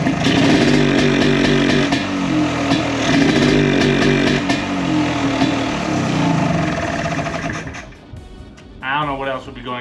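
A small engine struggles to rev, its uneven, chainsaw-like buzz surging loud and rough for several seconds before dropping away near the end, with no clean climb in pitch.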